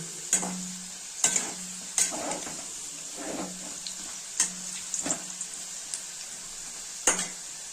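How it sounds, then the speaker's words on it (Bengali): Potatoes fry in hot oil for a katla fish kalia, with a constant hissing sizzle and periodic scraping stirs about every second, close and moderate in level. "এই তেলেই এখন বন্ধুরা এই আলুগুলো ভেজে নেব"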